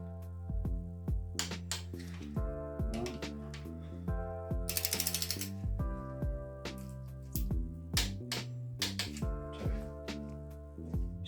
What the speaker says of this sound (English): these rod caps are also torqued to 43 foot-pounds